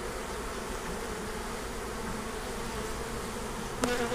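A steady, dense buzzing of many honey bees at a top bar hive fills the air close by, continuous and even throughout.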